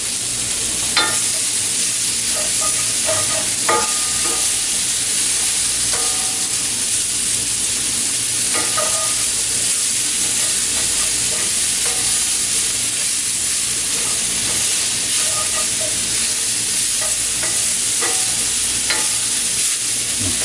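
Fennel fries in a hot skillet with a steady, loud sizzle and hiss that runs the whole time, broken by a few clinks and scrapes of stirring.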